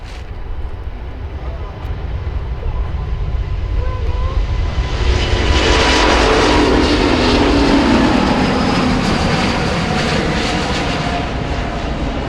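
A plane passing at Montreal-Trudeau airport, its broadband jet roar swelling from about five seconds and holding steady and loud to the end, with faint talk in the background.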